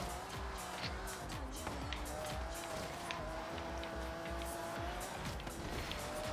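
A Ferrari F40 in Forza Horizon 3 drives hard, its engine droning steadily with shifting pitch, tire squeal and skidding mixed in, and someone speaks French over the game sound.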